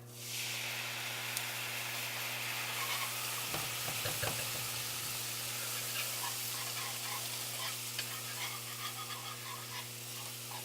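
A whisk stirs coconut milk with green curry paste, giving a soft, continuous wet swishing with a few sharper clinks against the bowl, over a steady low kitchen hum.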